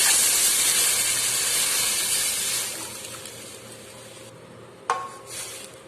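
Buttermilk mixed with gram flour poured into a hot pan sets off a loud hiss and sizzle that gradually dies down, followed by a sharp metallic clink.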